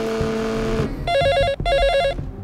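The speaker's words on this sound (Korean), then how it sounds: "낮잠 잘 때 벨소리가 들리면 짜증이 엄청 났던 기억이 있어서 벨소리와 진동 소리를 반복해 건수를 짜증나게 하려는 연출이었다고 합니다" A mobile phone ringtone plays in a scene from the Korean thriller film 'A Hard Day', a bright electronic tone repeated in two loud bursts after a tonal musical passage.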